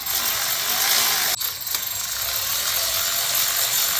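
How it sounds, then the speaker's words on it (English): Ratcheting on the fuel rail nuts of a Honda Element during a fuel injector swap, a hissy mechanical clicking with one sharp knock partway through, close and fairly steady. "So just tighten them down till they're snug."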